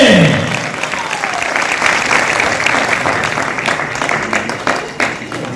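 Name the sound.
audience applause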